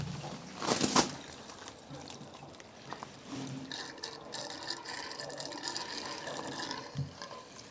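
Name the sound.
petrol being poured into a tractor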